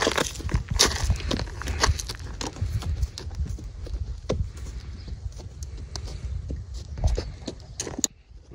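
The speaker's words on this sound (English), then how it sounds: "What a big horse you are" Hooves clip-clop on hard ground as a horse walks nearby at a station, the irregular steps fairly close and moderately loud.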